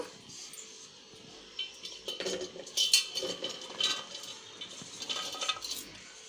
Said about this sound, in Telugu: ఇగో ఈ మిక్సీ జార్లో ఇప్పుడు ఈ ఆమ్లాస్ వేసేస్తున్నా ముక్కలు